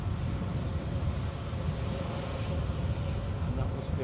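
A Turkish airliner departs Edinburgh airport, its jet engines giving a steady, loud, broadband roar that holds throughout the clip.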